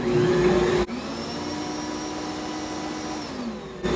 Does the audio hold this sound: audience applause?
no